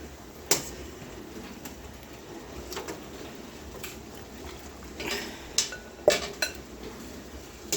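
A utensil scrapes and clinks inside a cooking pot, fishing ham bones and pieces out of broth; sparse, quiet metallic knocks and taps spread across the clip over low background hum, with no talking.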